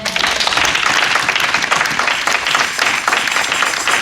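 A church congregation breaks into loud, continuous applause, many hands clapping together in a dense wash that swells and dips slightly for the whole stretch.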